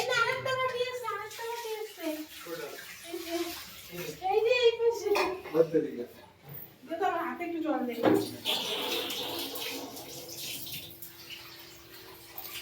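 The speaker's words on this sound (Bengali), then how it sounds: "কি করছিস বাসন ধুচ্ছিস" Dishes clatter and water splashes from a running tap during washing-up in a home kitchen, low and intermittent under near continuous conversation, including a voice.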